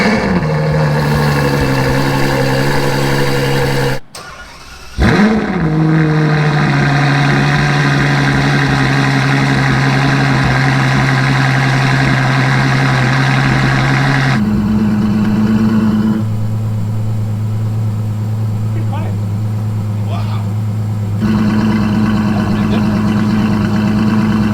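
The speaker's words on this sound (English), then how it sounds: "Let's fire it up," Ferrari 812 Superfast V12 fitted with a Kline Inconel exhaust idles loud and close, a brief blip near the start, then the steady drone shifts pitch twice as the exhaust valves close and open.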